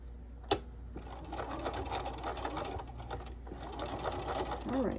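Close up, a sewing machine tacks down the fabric of a trick-or-treat bag in a steady, fast whir of needle strokes after a brief click, and it keeps running alone at moderate volume.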